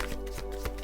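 A tarot deck being shuffled and a card drawn: a brief close run of soft papery rustles with a few light taps, quiet and without any voices.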